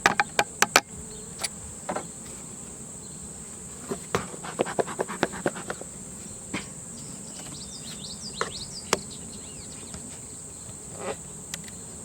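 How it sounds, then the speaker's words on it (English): Bees inside an open queenless beehive give a faint, steady buzzing hum, broken by scattered sharp clicks and knocks from handling the hive. "And there are still bees in here,"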